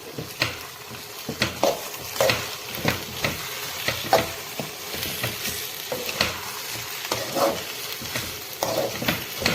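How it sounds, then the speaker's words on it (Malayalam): Chicken chukka with curry leaves is stirred in a pan, with a steady sizzle and repeated scraping strokes of the spoon against the metal at a fairly even pace, up close and without talk. "ഇനി അവസാനമായിട്ട് കുറച്ച് കറിവേപ്പില കൂടി ഇട്ട് നമുക്ക് ഇളക്കി ഇത് ഇറക്കാവുന്നതാണ്"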